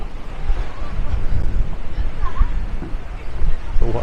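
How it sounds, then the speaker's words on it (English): Heavy wind buffets the microphone in low rumbling gusts at the seaside pier in Clevedon, swelling louder near the end, with faint surf-like noise underneath. "It is very windy."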